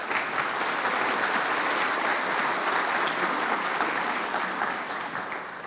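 Sustained audience applause at a national auditing forum, a dense steady wash of many hands clapping close and loud, fading slightly toward the end, with no voices over it.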